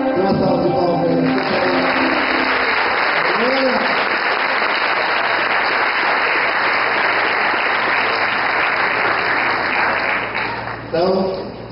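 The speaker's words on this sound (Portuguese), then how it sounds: "Uma salva de palmas aí." A church congregation at a Baptist church service breaks into loud, sustained clapping that fills the room, with a few voices heard briefly at the start and again as it dies away near the end.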